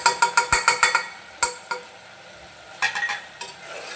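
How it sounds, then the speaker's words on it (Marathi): A utensil stirs garam masala, biryani masala, red chili powder and turmeric into chicken pulao in a hot pan, giving a quick rhythmic run of scraping clinks, then scattered stirs over a soft sizzle. "हे मिक्स करून घेऊया आपण"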